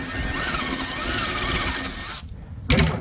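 A power tool runs steadily to clean out a bolt hole on an HWH RV slideout room during chain replacement, a continuous whirring drone for about two seconds, then stopping briefly before a short louder burst near the end.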